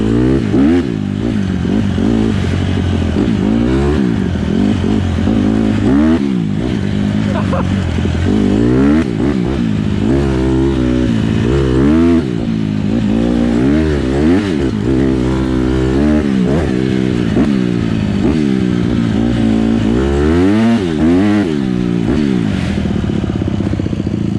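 A dirt bike ridden on trails, its engine loud and close throughout, repeatedly revving up and dropping back in rising and falling sweeps over a constant rough drone.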